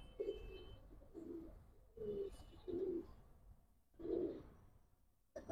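Flying-breed giribaz pigeons coo softly in a quiet space, about five low, rounded coos spaced a second or so apart over faint background hiss.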